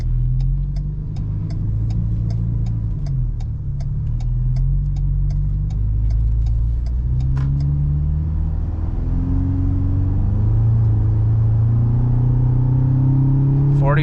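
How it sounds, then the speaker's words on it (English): A Roush Ford Ranger pickup's 2.3-liter engine hums low and steady while a turn signal ticks, then revs up as it accelerates, its exhaust rising in pitch through several gears. "I love the way the exhaust sounds too"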